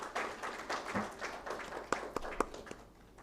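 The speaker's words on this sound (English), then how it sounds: "Please give him a huge round of applause." Audience applause at the Water Sustainability Awards ceremony in India, a quiet patter of clapping from a modest crowd with a few sharper individual claps standing out before it tapers off.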